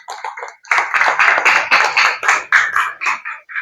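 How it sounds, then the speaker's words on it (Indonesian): A small audience of classmates claps for presenting groups in a classroom teaching session, a series of separate bursts of hand claps that start and stop at close range. "kita kasih tepuk tangan buat kelompok 1 dan kelompok 2"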